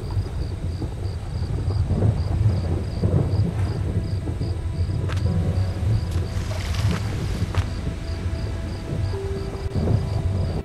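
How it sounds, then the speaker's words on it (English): In the survival game Under the Ocean, a storm rumbles with thunder and a steady wash of hail and rain, punctuated by a few sharp impacts and a faint repeating high tone, with no speech. "It started to hail."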